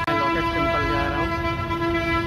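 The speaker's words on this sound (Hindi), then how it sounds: "मैं अभी मेट्रो स्टेशन बल्लभगढ़ पे हूँ" A Delhi metro train at Ballabhgarh metro station sounds a long, loud steady horn tone close by, with rumbling rail noise beneath and faint voices in the background.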